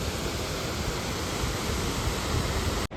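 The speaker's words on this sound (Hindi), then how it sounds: "झरना आ रहा है।" Waterfall pouring down above a small Himalayan mountain village near a bridge, a steady, loud, close broadband rush of falling water that continues unbroken throughout.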